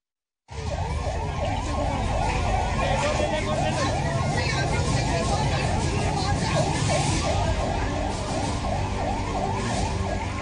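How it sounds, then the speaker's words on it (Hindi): Ambulance sirens wail through the streets of Kathmandu after the 2015 Nepal earthquake, a loud, continuous, rapidly warbling siren with traffic and crowd babble underneath. "दिन भर देश की राजधानी काठमांडू की सड़कों पर एम्बुलेंस का सायरन गूंजता रहा"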